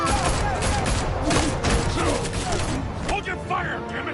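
Gunfire in Batman: The Telltale Series, a dense burst of rapid shots with mechanical clatter amid loud game noise, close and continuous, with voices talking over it.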